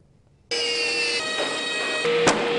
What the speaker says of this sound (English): That's the sound of custom built skis